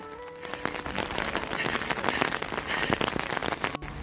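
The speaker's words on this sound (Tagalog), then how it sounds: "Lakas ng ulan. Pero wala namang hangin. Pababa lang yung ulan." Heavy rain pours steadily onto a surface, with dense close patter and drips filling the whole stretch and no talking.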